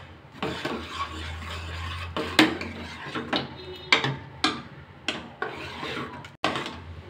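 Green moong dal kanji being stirred in a pot with grated coconut and salt, heard as close, repeated rubbing and scraping strokes of a spoon against the pot, each stroke rising and fading in a steady rhythm.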